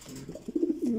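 A racing pigeon at a breeding farm gives a short series of low, throaty coos up close, rising and rolling over about a second against a quiet background.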